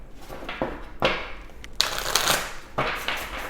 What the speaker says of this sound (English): let's go ahead and pull your oracle cards